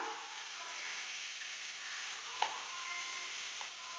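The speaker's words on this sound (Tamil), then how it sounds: "இதெல்லாம் சேர்த்து நல்லா வணக்கி வைக்கலாம்" Ginger, garlic and shallots for fish chukka sauté quietly in a pan, a soft continuous sizzle with a light stirring tap midway and another faint one toward the close.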